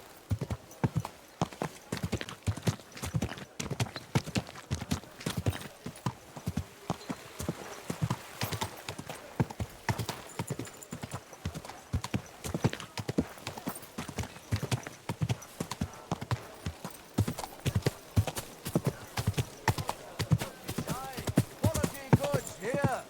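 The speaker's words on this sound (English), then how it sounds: "Easy, good horse." Steady clip-clop of horse hooves trots along in a quick, even rhythm, close by, with occasional soft snorts mixed in, in the video game Kingdom Come: Deliverance II.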